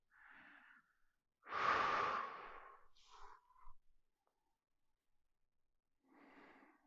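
A person lying down during a golf mobility exercise for seniors breathes slowly and audibly: a soft breath, a long, strong exhale, a few short breaths, then another soft breath after a quiet pause.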